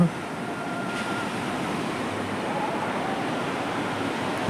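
Sea waves at Tondavali beach in Malvan, heard as a steady, continuous roar of surf with no distinct breaks, fairly loud and without talk.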